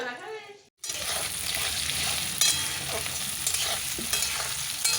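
Chicken, about a kilo, sizzles and fries in a small amount of oil while being stirred steadily in the pan, with a brief pause near the start and then continuous crackling and scraping throughout.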